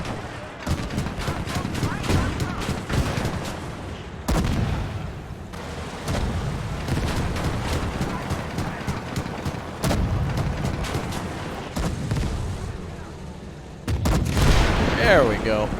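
Repeated tank cannon shots and surrounding battlefield gunfire boom through a Gates of Hell WWII match as a German 38(t) tank engages a Soviet T-40 with armour-piercing rounds, loud sharp blasts at irregular intervals over continuous combat noise.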